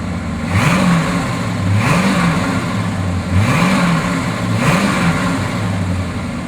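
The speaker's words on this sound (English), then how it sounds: "how about I start it for you so you can hear what that big 455 8-liter monster sounds like" A 1971 Oldsmobile 442 convertible's 455 V8 holds a loud, steady rumble, with four rhythmic revs swelling and falling about every 1.4 seconds, close and without talk.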